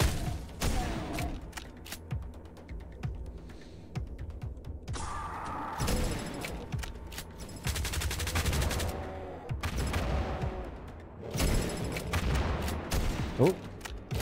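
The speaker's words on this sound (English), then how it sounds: "This assault rifle feels good and strong." Assault rifle fire in a dark, industrial shooter game comes in repeated rapid bursts with sharp cracks and booms, separated by brief gaps filled with mechanical game sounds.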